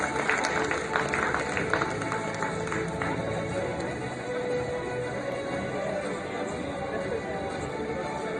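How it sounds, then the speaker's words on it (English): An audience at an awards ceremony applauds district award winners. The clapping is steady and continuous, with scattered sharp individual claps, and is heard throughout. "Big round of applause once again."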